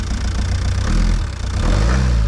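A Scania V8 truck engine starts and revs, a loud, close, deep rumble holding steady before climbing in pitch, with no talking.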